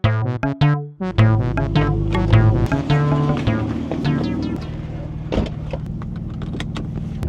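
A speed-yellow Porsche 996 Turbo drives ahead, heard from a following car: engine tone climbing through revs with harmonic layers, a sharp gap and restart near the start, then a sustained, gradually easing drone.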